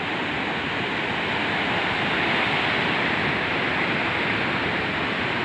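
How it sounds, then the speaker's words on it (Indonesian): Large waves breaking on a black-and-white sand beach at Dlodo Rejosari, heard as a steady, loud wash of surf noise with no talking. "Ombak cukup besar"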